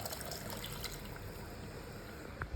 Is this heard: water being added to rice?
yes